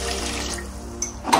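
A brief splash of water pouring into a pot, running steadily for a moment before a small clatter at the end.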